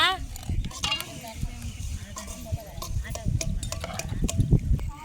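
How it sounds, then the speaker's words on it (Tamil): A spoon stirs homemade chili powder into a dried-fish kuzhambu in a pot, making steady scraping and clacking, fairly close, while a voice can be heard in the background. "மிளகா பொடி போட்டு நல்லா கிண்டியாச்சுங்க குழம்புக்கு"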